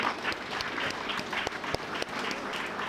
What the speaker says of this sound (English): Let's give a hand clap to TCC that gave us this venue to utilize.